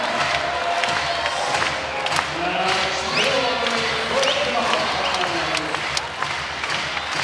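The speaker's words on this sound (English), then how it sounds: "Sellout crowd here in Louisville comes to their feet." Sellout volleyball crowd in a Louisville arena rising to its feet, loud continuous cheering, clapping and shouts filling the space, with sharp claps and whoops spiking throughout.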